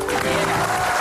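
A studio audience on an Indonesian television talk show claps loudly and steadily, a dense continuous wash of applause with faint voices mixed underneath.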